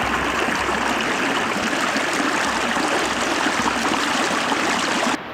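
A row of eleven waterfalls roars in heavy monsoon rain at a campsite, producing a dense, unbroken rush of falling water that holds steady and loud before cutting off abruptly near the end.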